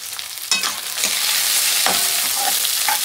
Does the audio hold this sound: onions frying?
yes